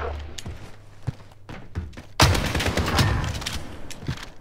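A burst of shotgun fire loaded with Dragon's Breath rounds in a video game erupts midway, a loud blast followed by a sustained fiery roar, after softer scattered thuds.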